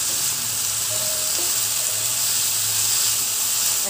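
Fish with green chilies, salt and turmeric sizzles loudly and steadily in a hot pan as it is mixed, with a strong hiss throughout and no voice.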